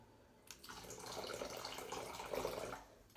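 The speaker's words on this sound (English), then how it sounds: "And now, the next 1/2 cup of water." Half a cup of water poured into a bowl while making simple no-cook play dough, a soft splashing trickle lasting a couple of seconds, faint and close, with no talking.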